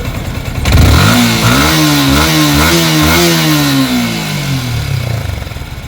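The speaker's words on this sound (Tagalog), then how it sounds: "pag sobrang init na ng makina natin, maririnig nyo yung nasipol" A Yamaha Sniper 155 motorcycle engine runs loud and close while very hot, revving up and holding a wavering, rising-and-falling mechanical drone with a faint high whistle layered above the engine note.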